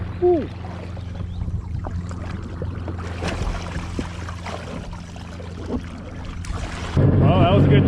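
A 1995 Sea-Doo XP 720 jet ski engine running on water, a steady low drone mixed with wind and splashing, close and loud, with a brief voice near the start and a surge of louder spray and whine at the end.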